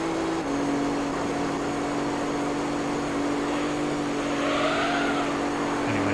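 Toyota Corolla rally car from Gran Turismo 3 racing at Smokey Mountain Rally, engine droning steadily at a held pitch with a gear change early on and a rising whine near the end, loud and continuous with no talk.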